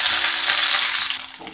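Sliced onion dropped into hot oil with cumin seeds in a wok, a loud bright hiss of frying right up close that fades slightly toward the end, no voices.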